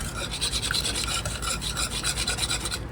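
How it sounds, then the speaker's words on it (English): Southern mac and cheese sauce is stirred in a pot, giving a steady, close, rhythmic scraping and rubbing as the utensil drags across the pot, repeating in even strokes with no voices. "Keep stirring."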